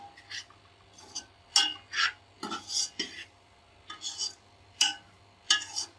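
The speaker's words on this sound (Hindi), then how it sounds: "अब ये मिक्स कर लेंगे" A spoon stirs and mixes ingredients in a pan for chicken macaroni, with clear scraping and clinking strokes in an irregular rhythm, close and distinct over a low steady hum.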